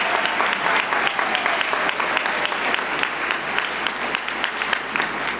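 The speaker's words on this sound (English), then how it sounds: "Let's give another round of applause to our band and our chorus" Graduation audience at a high school ceremony applauding the school band and chorus, sustained dense clapping at full strength for the whole stretch, loud and close.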